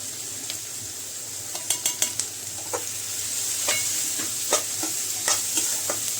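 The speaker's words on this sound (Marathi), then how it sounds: "व्यवस्थित परतून घ्यायचं आहे." Onion sautéing in a pan with added spice and turmeric while cooking a spicy tomato chutney, a steady close sizzle broken by several sharp scrapes and clinks of a spoon stirring against the pan.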